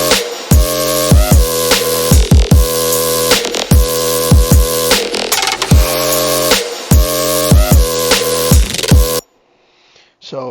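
Pumping sidechain-compressed electronic synth chords shaped by a shark-fin filter, swelling after each punchy kick in a steady four-on-the-floor rhythm, loud and upfront, then cutting to near silence at the end.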